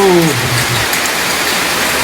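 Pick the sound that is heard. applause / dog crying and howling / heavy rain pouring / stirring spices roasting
heavy rain pouring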